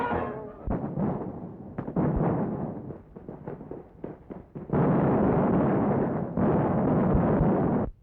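Hand grenades explode in wartime combat footage against the Nazis, heard as a scratchy old-newsreel soundtrack of repeated muffled booms and rumbling blasts, some short and choppy, others sustained.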